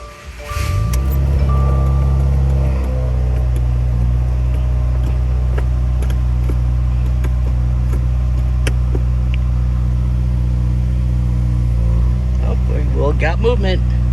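A 2017 Subaru Impreza WRX with a newly replaced clutch idles loudly and steadily from close range, its low engine drone holding throughout, with a voice speaking briefly near the end.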